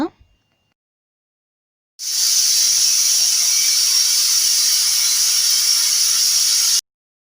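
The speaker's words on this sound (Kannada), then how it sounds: "ಈಗ ವಿಸಿಲ್ ಬಂತು, ಓಪನ್ ಮಾಡೋಣ." Pressure cooker whistle while mutton curry cooks, a loud steady steam hiss starting abruptly after a brief clatter and holding for about five seconds before cutting off sharply.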